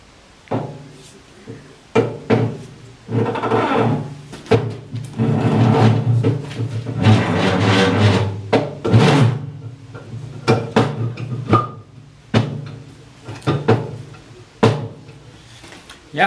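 A tractor halfshaft on a Nuffield/Leyland tractor is eased back into the axle housing, giving a series of sharp metallic clunks and knocks with scraping in between, close by, with someone talking intermittently.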